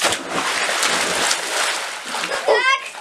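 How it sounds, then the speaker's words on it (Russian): A splash as someone jumps into a swimming pool, with children's voices and water sloshing throughout, a brighter burst of splashing near the end. "Смелости есть утром прыгнуть в воду?"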